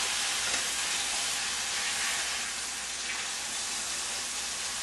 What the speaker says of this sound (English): I just want to get a nice sear on this meat, on all sides